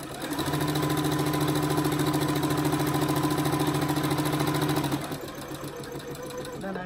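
A sewing machine stitches a quarter-inch seam in fabric with a close, steady rapid mechanical whirr, then slows and stops near the end.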